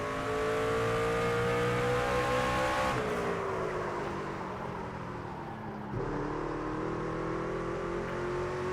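Craftsman truck engine in NASCAR 25 at Martinsville, loud and steady, winding up through the gears with a rising pitch that drops at each shift, then climbs again, with no talk.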